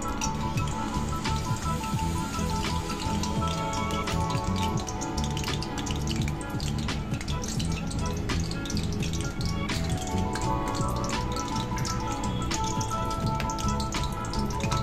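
Stuffed rolls fry in hot refined white oil, giving a dense, steady crackling sizzle with scattered sharp pops that holds at an even loudness throughout, with no voices.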